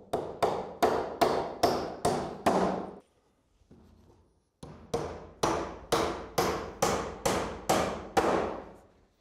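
A hammer drives nails through roof battens on a slate roof in sharp, evenly spaced blows. There is a run of about eight strikes, a brief quiet gap with a faint knock, then another steady run of about nine, close by and with no voices.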